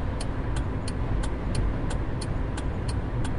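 A car accelerates and changes lanes on a highway, passing buses in traffic, with a steady loud broadband road and engine roar throughout and regular faint ticking from the turn signal.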